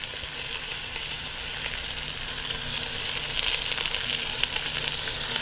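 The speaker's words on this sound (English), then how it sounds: "now we're going to add some onions" Onions sizzling in a pan beside a browned roast, a steady broad hiss with faint crackles that builds slightly toward the end, close and fairly loud, with no voices over it.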